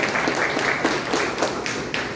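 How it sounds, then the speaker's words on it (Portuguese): A church congregation applauding, a dense, steady wash of many hands clapping together at moderate loudness for the whole stretch. "Se você crê, dá um glória a Deus e aplauda bem forte o nome do Senhor"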